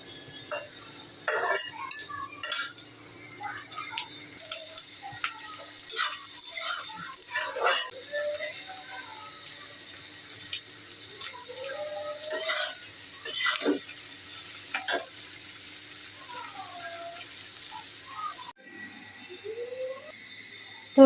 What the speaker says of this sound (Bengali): একটু হালকা লাল লাল করে দিব পেঁয়াজটা